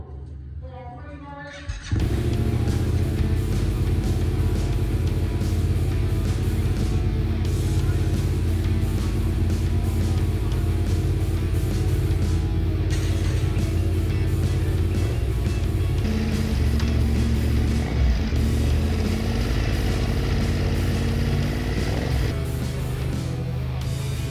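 Yamaha MT-07 motorcycle at race pace on a track at Mallala, a steady loud engine drone with shifting pitch that begins abruptly after a brief quiet start and holds continuously.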